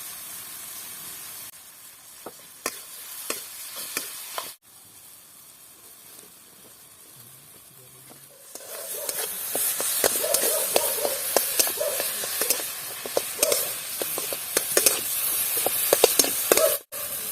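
Ginger garlic paste sizzles in hot oil for a fish curry, a quiet crackle first that swells after a few seconds into a steady, louder hiss and spatter with scattered pops and clinks, no talk.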